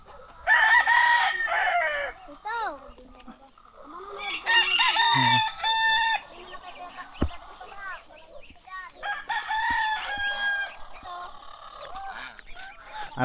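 Roosters crow repeatedly amid clucking chickens nearby, with a brief spoken word among the birds.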